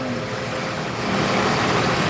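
A Scania K450 Euro 5 double-decker bus of the Adi Prima line pulls in at kilometre 12 in Palembang, its diesel engine a steady low rumble and idle drone growing slightly louder toward the end, with no voices.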